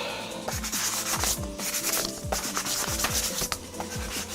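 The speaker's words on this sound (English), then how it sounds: "you're kind of smoothing out all the areas that you already sanded" Sandpaper rubs back and forth over a wooden guitar headstock for a bowed guitar build, a close, loud sequence of quick rhythmic scraping strokes with no talking.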